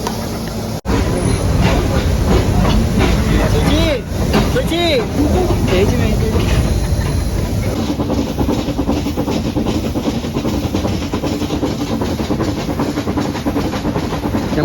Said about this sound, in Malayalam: നമ്മൾ ട്രെയിനിൽ പോകാൻ ടൈമായി ബിസിലടിച്ചിട്ടുണ്ട്